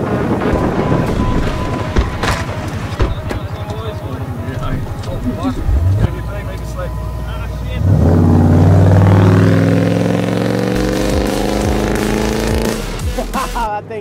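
Budget-built cars running 50 psi race across sand, engines revving and accelerating close by with wind buffeting, a loud surge of engine noise building partway through as voices are heard.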